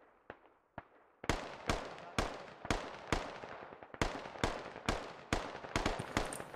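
Gunfire in the multiplayer shooter Operation Tarantula Hawk: two distant shots, then a steady run of about a dozen loud, sharp cracks spaced roughly half a second apart, each with a short echoing tail.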